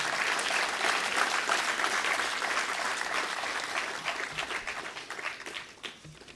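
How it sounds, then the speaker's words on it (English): An audience at a leadership seminar applauds with dense, even clapping that gradually thins and fades toward the end. "Please have a big round of applause."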